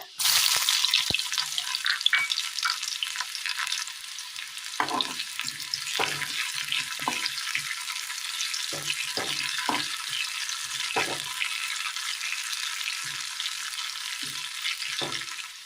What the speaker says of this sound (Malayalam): ചൂടായ എണ്ണയിലേക്ക് കടുകിട്ട് കൊടുക്കുക കടുക് പൊട്ടി വരുമ്പോൾ രണ്ട് വെളുത്തുള്ളി അരിഞ്ഞത് ഇട്ട് കൊടുക്കുക